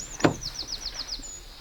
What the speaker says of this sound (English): the door opens nice and wide too